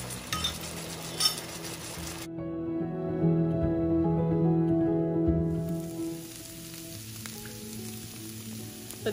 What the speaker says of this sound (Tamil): சேர்த்து நல்லா ட்ரையாக வதக்கி எடுத்துருங்க